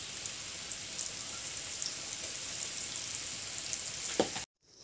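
Peanuts fry in hot oil in a wok, a steady dense sizzle with fine crackles that runs evenly and close for several seconds, then cuts off abruptly near the end.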